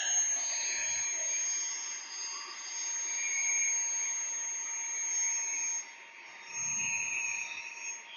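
A handheld 3-in-1 car vacuum runs with its nozzle attached, making a steady, high-pitched whine close by that dips briefly and then comes back.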